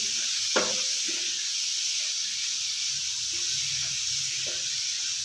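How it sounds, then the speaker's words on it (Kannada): Grated carrots fry in ghee for carrot halwa, a steady close sizzle with a few soft stirring scrapes and no talking. "ನಾಲ್ಕರಿಂದ ಐದು ನಿಮಿಷ ಚೆನ್ನಾಗಿ ಹುರ್ಕೊಳ್ಳೋಣ"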